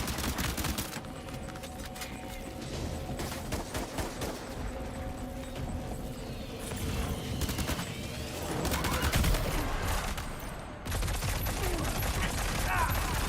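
Heavy gunfire and explosive pyrotechnics roar through a Death Stranding 2 firefight, dense rapid shots layered with booming blasts and mechanical clatter, loud and continuous, with a voice talking over parts of it.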